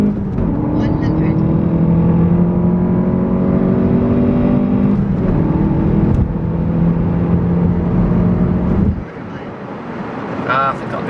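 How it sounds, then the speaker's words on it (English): Salvaged Volkswagen Golf GTI pulling hard from a standstill on a road run, a loud continuous engine drone with rising harmonics climbing through the gears, a short dip mid-run, then easing off near the end with wind buffeting. "I'm gonna wait for as long as possible. Hesitating first then."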